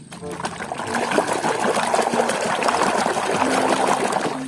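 Water trickles and splashes steadily while toy animals are washed, a close, continuous running-water sound with light clatter of handling.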